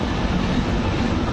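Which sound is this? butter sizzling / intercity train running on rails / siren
intercity train running on rails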